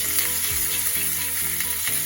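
Meat searing in a small amount of oil while preparing siopao filling, a steady close sizzle and crackle with a few stirring scrapes, continuous and fairly loud with no talking.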